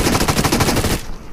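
Video game automatic gunfire, a loud close rapid burst of evenly spaced shots lasting about a second before cutting off abruptly.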